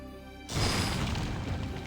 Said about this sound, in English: That mortar cannon is down.